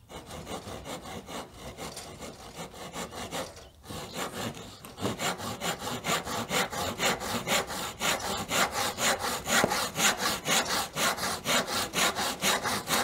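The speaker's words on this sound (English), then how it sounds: "And again, the saw is doing the work." A hand saw cuts a wooden tenon in steady, even back-and-forth strokes, a brief pause and then a faster, louder run of rhythmic rasping, close by with no speech.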